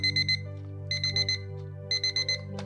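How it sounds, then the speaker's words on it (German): A novelty alarm clock rings in three clusters of rapid high beeps over a steady low hum, close and clear. "Also, ist ein cooler Wecker, sieht lustig aus."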